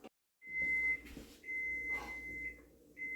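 A kitchen timer goes off while mushroom soup cooks, giving a steady high electronic beep in several sustained bursts separated by short gaps, fairly quiet against a soft kitchen background.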